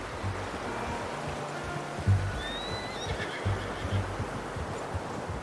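A horse whinnies briefly in Red Dead Redemption 2, somewhat distant, over a steady rushing ambient background with faint low thumps.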